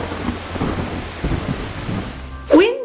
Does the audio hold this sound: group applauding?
no